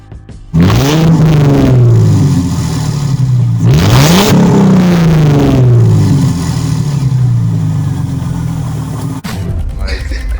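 A Mercedes-Benz S-Class on custom W210 AMG wheels revs hard during a burnout, its engine rising and falling through loud repeated sweeps close by, then settling into a sustained high roar, with a voice faintly underneath.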